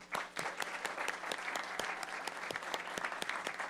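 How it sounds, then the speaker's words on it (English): A smaller group at a school board meeting claps steadily, with distinct individual claps popping out of the patter, fairly quiet and continuous throughout. "We are all giving you a round of applause."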